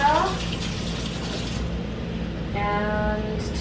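Tap water runs steadily into a pot while cooking rice for a Jamaican fish meal, a continuous close hiss with a brief pause and then more filling, under a faint background hum.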